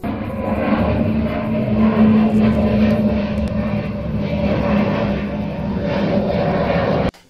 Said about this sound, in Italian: ecco l'altro aereo